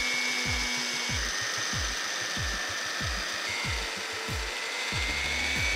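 A mortising machine cutting a mortise in an oak beam for traditional joinery. A loud, steady machine drone runs under a rhythmic series of deep repeated thumps, about two per second, with no talking.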